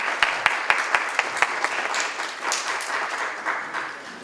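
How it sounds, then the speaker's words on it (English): Round of applause from an audience at a political campaign event, starting with a few sharp, distinct claps that build into a steady, moderately loud patter and then fade slightly. "you should give yourselves a round of applause for being here."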